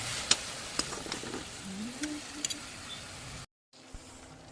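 Onion-tomato masala cooking in a pan for cauliflower kofta curry, with a steady close sizzle and occasional stirring clinks, ending in a brief silence before a soft knock.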